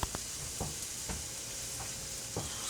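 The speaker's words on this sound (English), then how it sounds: "we got onions cooking up" Onions frying in a pan, cooking with potatoes and chickpeas for a curry: a soft, close sizzle with a few quiet scraping stirs, no voices.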